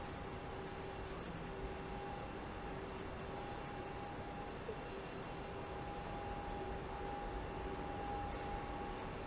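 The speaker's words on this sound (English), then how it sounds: "cut back to the video once this train arrives" A Seoul subway Line 2 train pulls into a station platform, filling the space with a steady, continuous rumble and a thin sustained whine that holds throughout.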